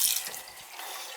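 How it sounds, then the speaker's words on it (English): Water rushes out of a valve opened beneath a dishwasher supply line, a short, close hissing splash that tapers into a steady trickle. "I just want to open the valve down here so we can let the water out."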